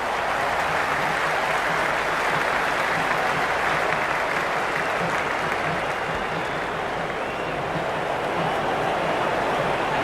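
Spectators at a Sydney Sixers versus Melbourne Stars cricket match roar and applaud in a dense, continuous wash of crowd noise that stays loud throughout with no break.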